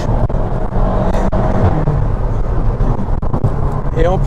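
A loud SEAT Leon Cupra engine with a Stage 1 tune roars close by, revving and pulling hard under acceleration, with a rising whine near the end.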